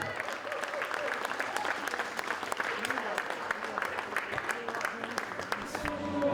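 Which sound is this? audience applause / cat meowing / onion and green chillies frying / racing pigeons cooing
audience applause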